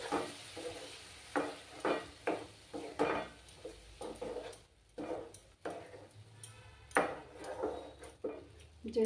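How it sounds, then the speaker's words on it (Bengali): Food with cashews stirred in a pan, giving repeated scraping strokes of a spoon against the pan in an uneven rhythm, close and moderately loud, with a faint sizzle underneath. "দিয়ে এবার ভালো করে নাড়াচাড়া করব।"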